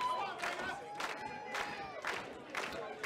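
Crowd at a professional wrestling show cheering and chanting in rhythmic swells, roughly one surge every half second, with a big indoor audience echoing at moderate loudness.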